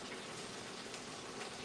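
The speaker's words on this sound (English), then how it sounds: "I'm just frying some fish" Fish sizzles in a frying pan, a faint, steady, hissing crackle that runs without a break and with no voices.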